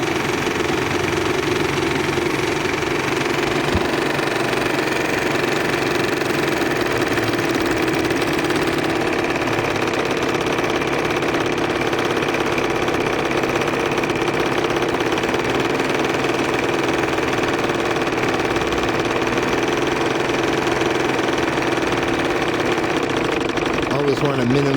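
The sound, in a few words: live steam engine running in Bassett Lowke patrol cruiser boat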